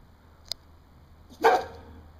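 A dog gives a single sharp bark up close outdoors during a storm, preceded by a faint brief click.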